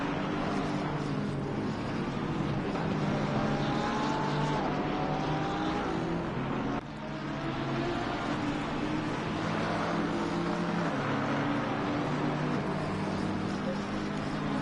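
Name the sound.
Bentley and Porsche race cars in Assetto Corsa Competizione video game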